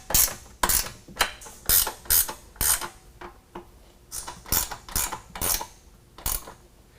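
Hand ratchet with a 13mm socket snugging the rear bolts of Havoc HS3 black hoop steps on a 2017 Ford F-150 Crew Cab, heard as close, crisp bursts of clicking in repeated short strokes with brief pauses between.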